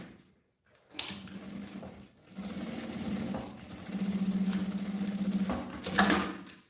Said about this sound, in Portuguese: passa a costura com o pé de máquina